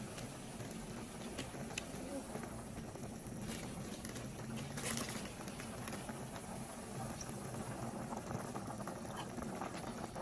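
Vegetables boiling in a pot of Thai clear soup with minced pork, a steady, faint bubbling churn that runs evenly from start to finish.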